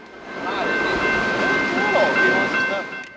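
A QJ steam excursion train passes on the Iowa Interstate in Iowa City, a steady rolling rumble with a sustained tonal whine, moderately close and holding for about three seconds, with no speech.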